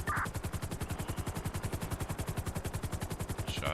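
Sustained rapid automatic rifle fire in the GTA 5 video game, a dense, evenly spaced burst of loud shots running the whole time, with a couple of brief tonal blips at the start and end.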